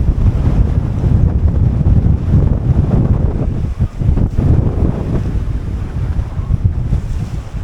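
Strong wind roars across a microphone on a sailboat at sea on a close reach along the Atlantic coast between Atlantic City and Cape May, with waves washing against the hull in a constant loud rush.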